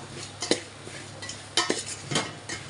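Mango pieces are tossed with masala for Andhra-style avakkai pickle, giving soft scraping stirs and a few sharp clinks of a spoon against a bowl, close and irregular, without talk.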